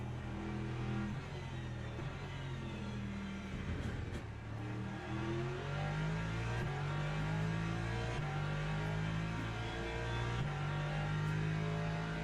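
Race car engine in a damaged car in a racing video game drones steadily at high revs, pitch stepping up through gear changes along a long straight, continuous and fairly close without talk.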